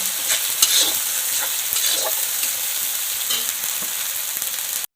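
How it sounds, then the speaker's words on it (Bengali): Ginger garlic paste frying in a pan for a masala rohu fish curry, a bright close sizzle with intermittent stirring scrapes and clicks, steady and loud before cutting off abruptly. "আমি দেব আদা রসুন বাটা। এগুলো এখন ভালোভাবে ভেজে নেব"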